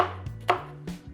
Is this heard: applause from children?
no